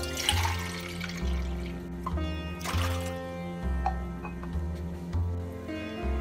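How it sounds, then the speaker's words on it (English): Four cups of water pour steadily into a pan on a medium-high flame with a continuous splashing rush, close by, over a low mechanical hum. "I am adding 4 cups of water."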